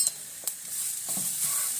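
Spiced food fries in a pan as chili powder is added, a soft steady sizzle with a few light stirring scrapes and clinks, brief and close, with no voices.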